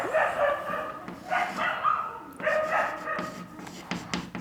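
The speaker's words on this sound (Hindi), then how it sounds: "रात को बनाता हूँ ना वीडियो तो यही भौंकते रहते हैं कुत्ते पूरे रात।" Dogs bark and yip repeatedly at a distance, several overlapping calls in irregular bursts with no talking.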